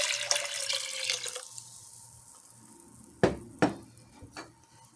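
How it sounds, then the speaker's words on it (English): Beef broth pours into a pot with a steady liquid splash, then stops, followed by a few distinct clunks and light kitchen knocks. "now you can add in your 4 cups of beef broth"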